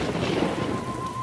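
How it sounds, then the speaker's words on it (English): Cartoon rain effect as a shower begins at a picnic: a steady hiss of falling drops with a low rumble beneath, continuous and moderately loud, no talking. "Starting to rain."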